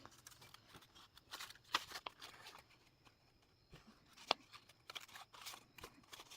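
Scissors cutting straight across a paper journal page, a run of faint, close snips and crisp clicks with quiet rustling between them.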